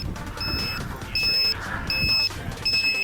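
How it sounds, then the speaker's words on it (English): A quadcopter's low-voltage battery alarm buzzer sounds in four short, evenly spaced high-pitched beeps, moderately loud over low background noise. "So once it gets down to a certain voltage you set, it triggers the alarm."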